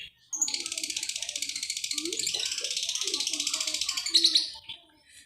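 A male lovebird sings a long, fast, continuous trilling chirp close by, ending in a few sharp notes, with someone talking quietly underneath.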